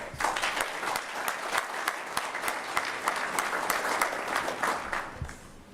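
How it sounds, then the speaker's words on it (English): An audience at a fire and emergency services awards and badge-pinning ceremony claps steadily, a dense, continuous round of applause across the whole stretch. "let's give them a round of applause."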